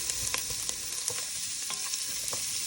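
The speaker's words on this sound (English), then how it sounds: "we will mix that until it's combined with the onion" Minced garlic and onion sizzle together in a pan for pasta sauce, making a close, steady frying hiss with quick, repeated stirring scrapes and no talk.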